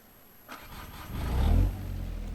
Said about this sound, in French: Je vais vous faire un petit démarrage moteur